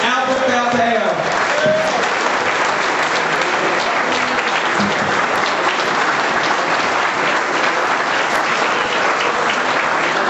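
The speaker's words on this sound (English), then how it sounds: "Let's give him a great round of applause." A large audience claps steadily and loudly, the dense applause holding strong throughout with a few voices briefly audible at the start.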